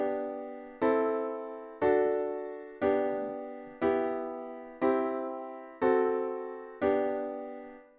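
Piano chords in three-part voicing, seven struck blocks in a steady even rhythm, each ringing and decaying before the next, played close and alone with no talk.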